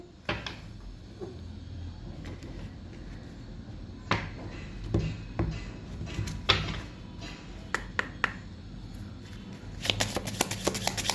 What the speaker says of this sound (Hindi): पहले आज मैं कार्ड्स लूँगी सारे, उसके बाद में मैं रीडिंग स्टार्ट करूँगी